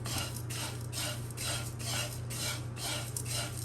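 Flat rice flakes (aval) dry-roasting in a pan with no oil, giving a steady dry rustling scrape as the flakes are stirred in rhythmic sweeps, close and fairly loud.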